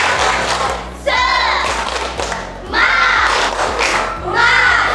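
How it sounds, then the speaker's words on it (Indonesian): Children in a classroom perform the tepuk semangat chant, clapping in rhythmic bursts and shouting together in loud, close group outbursts with short pauses between. "Oke, siap, tepuk semangat."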